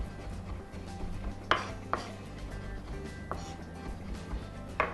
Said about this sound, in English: We'll cut it through, then we're going to line the pieces up so we get more cuts per swipe.